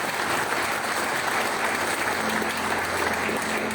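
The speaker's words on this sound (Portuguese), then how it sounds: "Aplauda mais uma vez o Senhor" A church congregation applauds during a Baptist communion service, steady dense clapping filling the room at a constant level from start to finish, with a faint sustained tone entering partway through.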